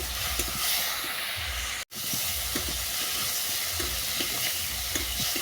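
Spice paste with turmeric powder sautés in a pan, giving a loud, steady hissing sizzle with regular scraping stirs. The sound cuts out for a moment early on.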